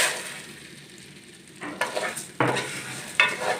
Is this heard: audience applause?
no